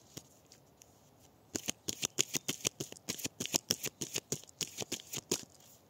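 Tarot cards are cut and riffled, producing a quick series of sharp, crisp snaps and flutters in a rapid irregular rhythm, close and fairly quiet, following a moment of near silence.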